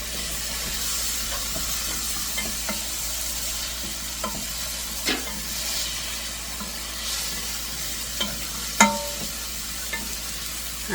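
Garlic fries in a pan for a ham and chicken white bean soup, giving a soft steady sizzle and hiss with occasional light clicks and taps of a utensil, no voices.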